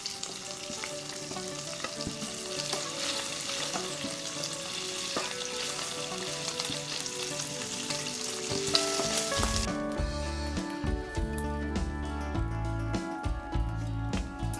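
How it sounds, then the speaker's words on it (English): Bacon frying in a pan, a dense, continuous sizzle and crackle that holds steady, then turns heavier and more popping partway through, with no talk over it. "So let's go ahead and fry up our bacon."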